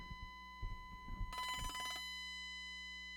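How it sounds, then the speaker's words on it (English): A modular synthesizer burst module patch produces a rapid trilling, bell-like ring resembling a telephone, in one roughly 0.7-second burst over a steady humming drone and a few low thumps. "It sounds like a phone ringing."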